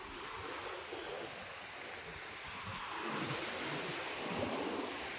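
Steady broadband rush of ocean surf washing onto a beach in Romblon, Philippines, continuous and fairly loud with slight swells in intensity, no voices present.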